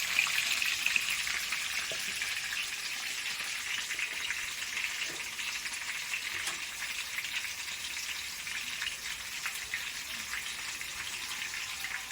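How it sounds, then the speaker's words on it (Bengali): Potatoes frying in oil in a pan, with a steady, close bubbling sizzle and light crackle throughout and occasional soft stirring clicks, no voices. "আলুটা আগে ভেজে নেব"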